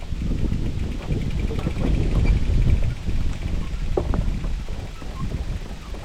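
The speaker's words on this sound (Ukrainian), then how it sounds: "Оце вітер довбасить." Strong gusts buffet a swaying suspension footbridge over the Tagamlyk River in Pysarivka, Poltava region, a steady low roar of wind noise across the microphone that swells and eases throughout.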